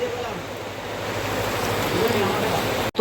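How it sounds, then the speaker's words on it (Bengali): Heavy storm rain pours steadily outdoors, a dense, even hiss that holds unbroken before a brief cut near the end. "দেখো গেদে বৃষ্টি হচ্ছে।"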